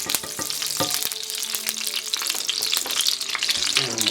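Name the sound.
homemade clarified butter heating in a pan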